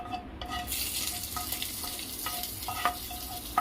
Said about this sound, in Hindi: और इसमें मैं तड़का लगा दूंगी।